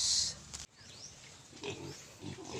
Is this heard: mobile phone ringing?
no